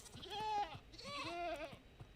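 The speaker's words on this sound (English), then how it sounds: "Yeah, so these are goats." Goats in Minecraft bleat in two drawn-out, wavering cries, close and clear against a quiet background.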